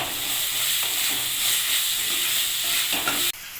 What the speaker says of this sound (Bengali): সবগুলো আমার নাড়াচাড়া করানো হয়ে গেছে।